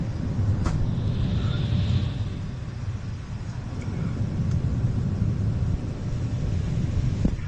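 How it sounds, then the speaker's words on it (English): A steady, loud low-frequency drone of engines and air rush fills a nearly empty airplane cabin in flight, constant throughout, with a couple of faint clicks. "On the plane, it's an empty flight."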